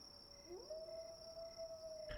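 A single wolf howl sound effect from a Ravenloft tabletop game session swoops upward, then holds a long steady note over a faint constant high tone.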